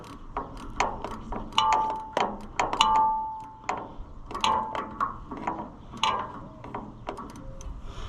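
A ratchet wrench tightens a starter bolt on a John Deere 2020 tractor, giving close, crisp bursts of rapid clicks in irregular strokes with short pauses between them and no talking.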